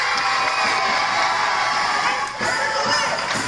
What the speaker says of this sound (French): La salle explose de joie.